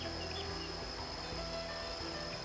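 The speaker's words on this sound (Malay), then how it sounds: "Lebah hutan adalah antara serangga yang mudah ditemui dan menjadi kelompok serangga yang dominan di kawasan hutan hujan tropika" A steady chorus of insects buzzes and drones without a break in the Taman Negara tropical rainforest in Malaysia, with no other sound standing out.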